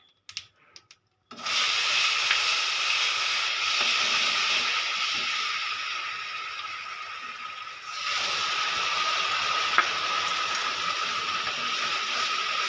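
Onion paste dropped into hot oil already seasoned with bay leaf, dried red chilli and cumin seeds hisses into a steady, loud broad sizzle that runs continuously after a brief quiet start, easing slightly midway before rising again.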